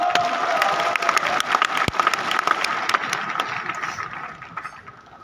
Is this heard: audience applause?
yes